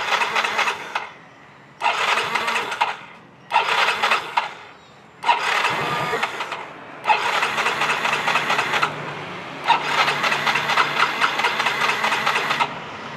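Motorcycle with suspected counterfeit spare parts and a hard-starting fault, cranked repeatedly: several bursts of starter whir and sputtering engine noise, each lasting one to three seconds, separated by brief pauses, the last attempt running longer and catching roughly.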